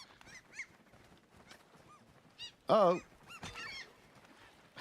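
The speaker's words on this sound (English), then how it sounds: "Hello, seagulls." Seagulls in the video game REANIMAL give several short honking squawks, scattered and fairly close, with one loud burst in the middle; a voice briefly exclaims.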